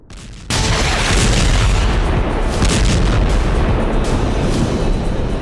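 Israeli airstrikes and bombing in Gaza: after a brief quiet start, a loud, dense roar of blasts and rumbling explosions erupts and continues without pause, with no talk.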